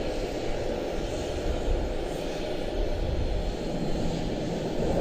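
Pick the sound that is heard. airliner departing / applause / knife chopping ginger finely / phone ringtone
airliner departing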